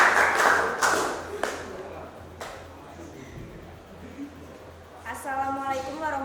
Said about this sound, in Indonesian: Tepuk tangan dong untuk Eva